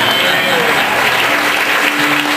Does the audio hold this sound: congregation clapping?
yes